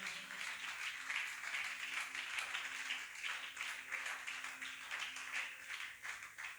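A church congregation claps during a sermon, a soft, continuous patter of many hands sustained for several seconds at a moderate distance, with no voices over it.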